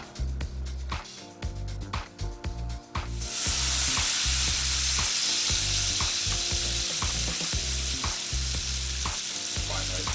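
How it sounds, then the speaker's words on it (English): Cooked pasta tossed in a hot pan with guanciale for carbonara: rhythmic scraping and clinking of a utensil against the pan, then a loud steady sizzle that takes over and runs on, close and continuous under the repeated stirring knocks. "Give this whole thing a good mix."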